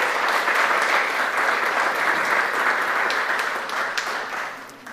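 A morning meditation gathering welcomes a guest with applause. The clapping is full and steady, then eases slightly toward the end, and no one speaks over it.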